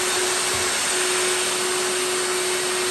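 A router with a guide bush follows a jig to cut a mortice in scrap MDF, a loud continuous high-pitched whine with a steady motor tone throughout, close up and without speech.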